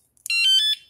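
The anti-theft alarm on an Xtracycle Edgerunner cargo bike lets out a quick run of three or four loud, bright electronic beeps, close and clear, with no talking.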